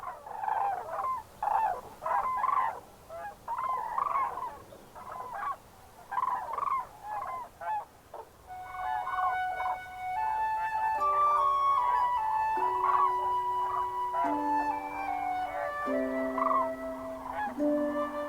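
Migrating young cranes in the Pyrenees near Gayokanta Lake give loud, repeated trumpeting and honking calls in ragged overlapping bursts, joined partway through by sustained tonal music.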